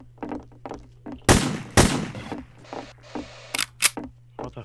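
Gunfire in Hidden: Source pops as a few sharp, loud shots spaced apart, followed by quicker smaller cracks, over a low steady hum with quiet game sounds between.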